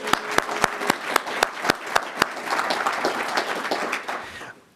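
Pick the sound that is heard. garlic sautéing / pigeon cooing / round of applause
round of applause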